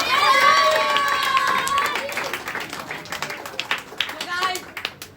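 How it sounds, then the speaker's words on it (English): Indoor Independence Day celebration audience clapping together, a dense burst of hand claps mixed with crowd noise and children's voices, tapering into scattered claps over several seconds. "please, for them, clap your hands together"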